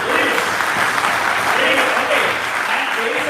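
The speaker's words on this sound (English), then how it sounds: "Let us clap for ourselves." An audience at a university session claps for itself, loud continuous applause with voices mixed in throughout.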